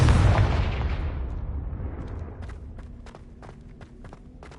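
A Confringo spell explosion in Hogwarts Legacy bursts loudly at once, then rumbles and fades over several seconds, while a series of light footsteps taps through the tail.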